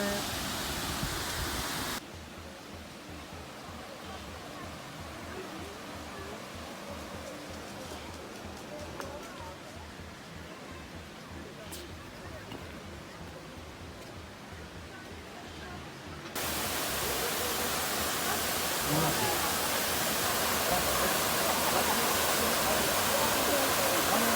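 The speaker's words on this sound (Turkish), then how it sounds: "Sinop'un en meşhur şelalelerinden biri Tabiat Parkı." A steady roaring rush of falling water from a waterfall in a nature park in Erfelek, Sinop, Turkey, growing louder partway through, with voices talking faintly beneath it.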